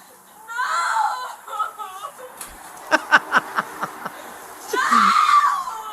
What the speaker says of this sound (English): this woman's screaming and crying